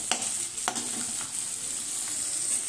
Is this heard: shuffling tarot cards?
no